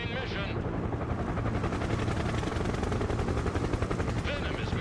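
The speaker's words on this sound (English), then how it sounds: "You can see the enemy helicopters heading towards the city down the main approach." Enemy attack helicopters in the military strategy game Broken Arrow fly low toward a city, a continuous rotor thrum mixed with bursts of rapid gunfire, fairly loud and sustained throughout.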